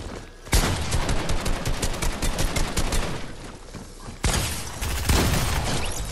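Gunfire in Fortnite: dense, continuous rapid shooting fills the whole stretch, broken by a short gap before another loud burst of fire resumes, close and harsh.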